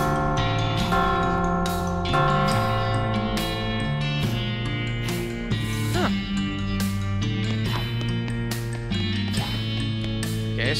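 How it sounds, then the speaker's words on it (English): Massive bells in a house in the West of Loathing video game ring out in dense, overlapping tolls with long sustained tones, loud and continuous for around ten seconds with no talking. "Ring the bells!"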